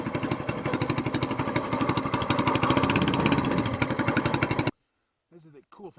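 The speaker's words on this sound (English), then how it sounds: "we're just gonna crank it up, let them run 4 or 5 minutes, get good and warm" SPS Longtail mud motor idling after warm-up with the choke off, a steady loud pulsing chug that cuts out abruptly near the end, followed by a brief spoken voice.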